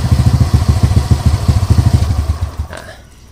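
A motorcycle engine idling with a loud, rapid thumping beat close by, then sputtering and cutting out after the rectifier plug is pulled, leaving a brief click and near silence.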